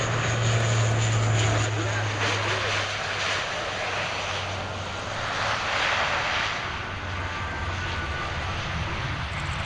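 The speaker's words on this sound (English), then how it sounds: "let's watch as they demonstrate for us that maximum effort assault landing" A military special operations aircraft roars through a maximum effort assault landing at an airshow, its loud, steady engine and propeller drone filling the whole stretch without a break.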